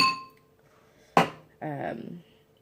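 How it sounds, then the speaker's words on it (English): A spoon clinking against a dish during a lobster tail and shrimp mukbang with butter sauce, one sharp close ring followed by a brief scraping rattle, with a faint voice before it. "Let me take this spoon out."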